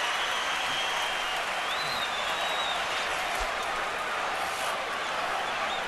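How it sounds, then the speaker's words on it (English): Boxing crowd at the Mayweather vs Cotto fight gives sustained, steady applause and cheering that fills the arena evenly, a continuous wash of sound without distinct peaks. "Crowd loves it because they can feel a sense of competition here."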